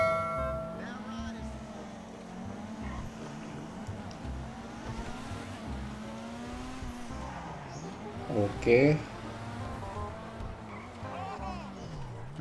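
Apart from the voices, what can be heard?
fast car driving in a video game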